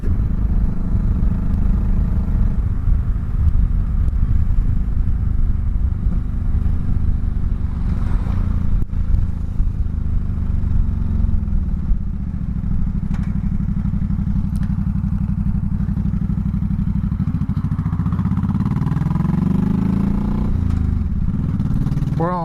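A 2004 Honda Sabre 1100 motorcycle ridden along back roads, its engine droning steadily and loudly throughout, with wind rumble and occasional thumps from the road.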